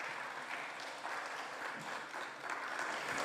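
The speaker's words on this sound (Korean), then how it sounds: "우리 큰 박수로 환영해 주십시오." Audience applause at a Korean church prayer worship service as a speaker is welcomed, steady dense clapping held at an even moderate level throughout, heard from a distance in a large hall.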